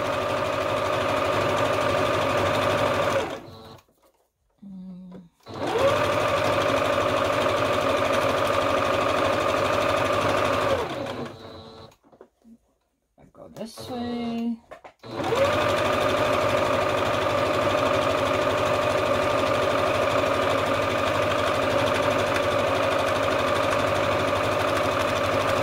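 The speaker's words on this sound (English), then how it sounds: "This will be enough as far as sewing, and you can see in the back all the stitching that we did" A sewing machine stitches fabric for a collage roll in long steady runs of loud, even, close whirring, stopping twice briefly before starting again.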